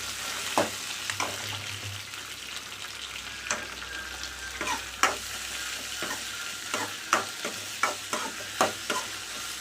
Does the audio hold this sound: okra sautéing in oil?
yes